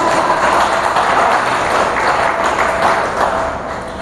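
A congregation at Monte Carmelo Baptist Church applauds in a dense, sustained wash of clapping that fills the room, then thins slightly toward the end.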